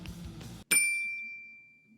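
A single bright notification bell ding rings out clearly after a brief burst of other sound, then its clean tone decays slowly over about a second and a half.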